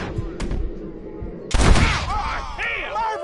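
A single loud gunshot in the Western game Red Dead Redemption, ringing out after a stretch of quieter ambience and talk, followed by a decaying echo with voices around it.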